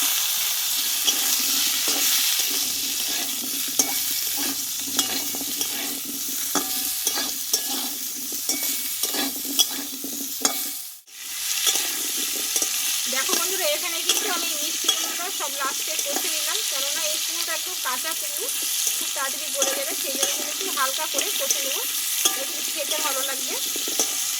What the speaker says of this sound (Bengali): এইবার এখানে কেটে রাখা মিষ্টি কুমড়োটা দিয়ে দেবো দিয়ে একটু কষিয়ে নেবো